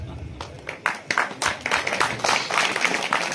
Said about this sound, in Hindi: एक बार जोरदार तालियां आप अपने लिए बजाइए।